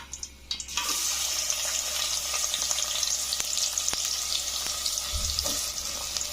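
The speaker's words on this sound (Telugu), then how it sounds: "ఈ ఆనియన్ అంతా ఫ్రై అవ్వాలి." Chopped onions frying in oil in a pan for a mutton curry make a steady, close sizzle throughout, with a few faint clicks and scrapes from stirring and no speech.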